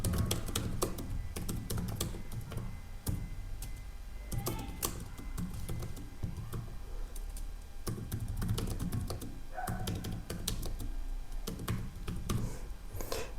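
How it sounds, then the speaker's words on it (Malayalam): Rapid typing on a computer keyboard, close and fairly quiet, with bursts of sharp key clicks separated by brief pauses, no voices. "അപ്പോൾ ഞാനൊരു സാമ്പിൾ കണ്ടൻറ്റ് ടൈപ്പ് ചെയ്യാണ്."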